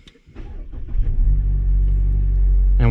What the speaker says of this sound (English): So we'll start up the engine.